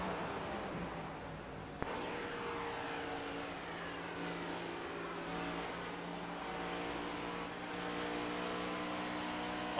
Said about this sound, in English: Just a little blip of the throttle there.